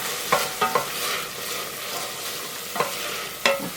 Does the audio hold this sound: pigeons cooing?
no